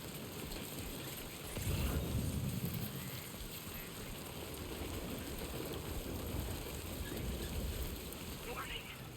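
Steady rain falling in the video game Death Stranding 2, a continuous broadband hiss of drops on surfaces with a brief louder gust near the start, mixed with wind and flowing water.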